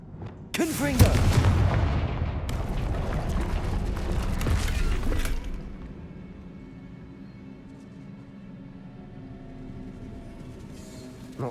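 Confringo blasting spells erupt in the Hogwarts Legacy video game: a sudden loud explosive roar with crackling, rumbling debris that sustains for about five seconds before dropping to a quiet, lingering ambience.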